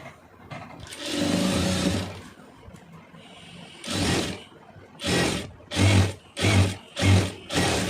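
Sewing machine stitching fabric scraps into a thick mat, a long run of loud motor whirring followed by several short, rhythmic bursts of stitching with pauses between, close and alone.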